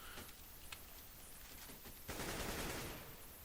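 Bursts of AK-47 rifle fire in Counter-Strike on the Nuke map, a few quick shots early followed by a louder sustained automatic burst.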